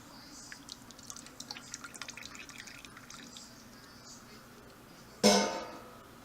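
Ham hock stock drains out with scattered light drips and trickles at close range, quiet throughout until a brief louder splash or clatter near the end.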